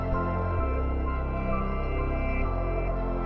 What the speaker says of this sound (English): So if you get the same sample and reverse it.